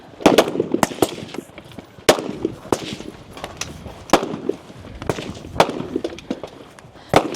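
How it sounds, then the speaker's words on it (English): Rifle and pistol gunshots ring out at a men's 60+ regional shooting match stage in Idaho, fired from a barricade: about ten sharp, loud reports come at irregular intervals. "They have 15 shots with their rifle and then 12 shots with their pistol."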